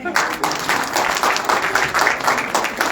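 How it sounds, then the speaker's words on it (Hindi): Applause at a speech event in Kolkata, with rhythmic bursts of clapping that pulse steadily throughout, dense and fairly loud, with voices mixed in. "जोरदार तालियां।"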